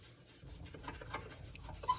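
A grimy surface being scraped clean with The Pink Stuff cleaning paste: a short, close, quiet rasping rub that repeats in uneven strokes.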